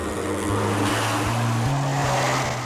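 A plane's propeller engine runs at full power, a loud steady drone with a rumbling low hum and rising harmonic tones, unbroken throughout.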